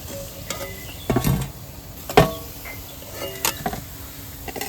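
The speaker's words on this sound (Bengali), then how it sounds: "এইবার আমি লাল করে ভেজে নিচ্ছি" Yam kofta balls fry in hot oil with a steady close sizzle, broken by a few sharp scrapes and clinks of a utensil stirring in the pan.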